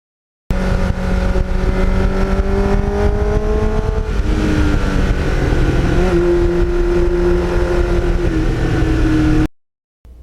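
A 1989 Kawasaki GPX750R motorcycle fitted with a Muzzy muffler runs close by, its engine note climbing and dropping as it shifts through gears, a steady loud drone that cuts off near the end.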